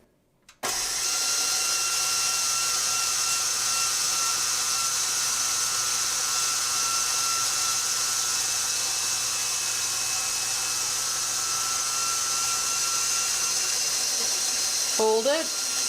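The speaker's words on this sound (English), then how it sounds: "And now we can roll it. The thickness has been set to 1. Use speed 2 on your mixer." A KitchenAid stand mixer running at speed 2 with a KSMPRA pasta roller attachment set to thickness 1 rolling dough, a loud steady motor whine close by that starts abruptly and continues unbroken.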